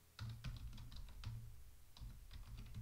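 Password being typed on a computer keyboard while connecting to a server over SFTP: quick bursts of close key clicks with short pauses, fairly quiet, no talking.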